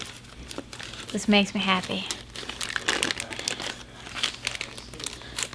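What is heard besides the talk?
crinkling zigzag packaging during kit unboxing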